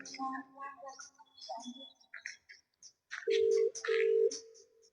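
A phone call being placed on an old mobile phone, with a few faint chirpy sounds and murmurs first, then two loud steady ringback tones repeating close by.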